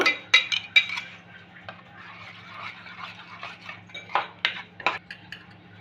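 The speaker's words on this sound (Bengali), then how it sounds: "এবার আমি দইয়ের সাথে ধনে পাতার চাটনিটা একসাথে ভালো করে মিশিয়ে নেব" Coriander chutney being mixed into yogurt in a bowl with a spoon, a run of close clinks and scrapes against the bowl, irregular and moderately quiet, busier toward the end.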